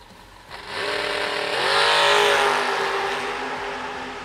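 Two drag race cars, a Chevy II wagon and a family Camaro, launch from the line. The engines swell into a loud, close roar that peaks mid-clip and then holds as the cars pull away.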